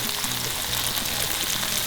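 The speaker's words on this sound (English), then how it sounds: "Now let this fry on a medium flame for at least 4 minutes." Tomato paste and dry spices fry in a pan over medium flame, giving a close, steady crackling sizzle with a few faint stirring scrapes underneath.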